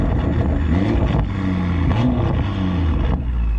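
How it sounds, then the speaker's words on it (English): BMW F30 exhaust at idle and light throttle, a steady low rumble with a few soft burbles and pops mixed in, close and continuous. "Tiny little burbles, just a touch."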